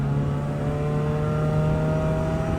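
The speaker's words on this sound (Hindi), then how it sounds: "एग्जॉस्ट की आवाज वैसे बड़े मजे की है, फटने वाली आवाज नहीं है, सुरीली आवाज है" A modified performance car's exhaust under acceleration, a steady, tuneful drone rather than a crackling burble, holding a constant loud tone close by with no talk over it.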